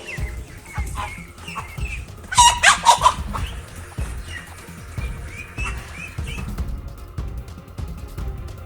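Chickens in a flock cluck in short, loud bursts during a fight with an aggressive goose, with a sharp flurry of squawks in the middle and steady clucking throughout.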